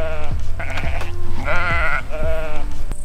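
Several sheep bleat one after another on an open wild hillside, loud and close, with short wavering calls separated by brief pauses.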